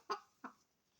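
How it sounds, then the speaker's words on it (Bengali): A pet rooster gives two short, abrupt calls a fraction of a second apart, close but faint, followed by quiet. "শেষ ডাকটা আমার মোরগটা দিয়ে দিবে"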